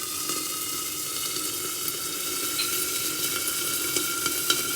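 Curry leaves and chillies sizzling steadily in hot oil for a prawn curry, an even, loud crackle that holds throughout with small pops and no talking.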